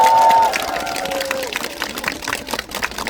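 Fan meeting audience clapping together after being thanked, a steady patter of many hands, moderately loud and continuous, with a faint tone at the start.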